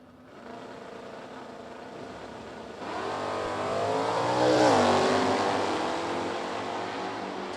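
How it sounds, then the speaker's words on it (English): A drag race car, likely a pair, launching and accelerating down the strip at a class racers revival event, the engine roar building and peaking mid-pass before easing, loud and fairly close with no talk over it. "Tim Mosby, Bill Feist going down the racetrack now."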